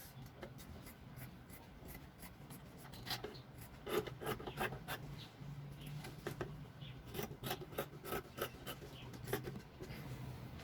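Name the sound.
scissors trimming excess fabric off a throw pillow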